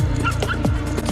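A small dog named Toto yips and whimpers in short, high bursts, fairly loud and close over a constant busy background hum.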